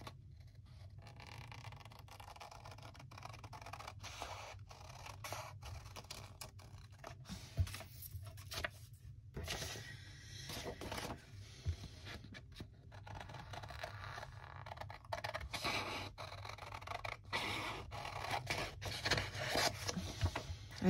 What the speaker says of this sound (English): I do love these new scissors, by the way.